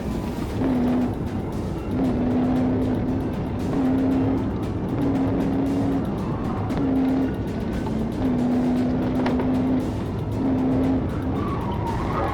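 A fleeing car spins out after a police PIT maneuver, tires squealing in repeated wavering bursts over a steady, loud engine and road roar.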